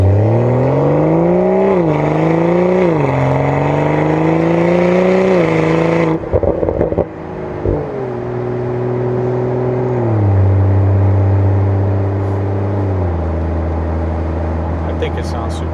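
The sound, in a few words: BMW X3 M40i exhaust revving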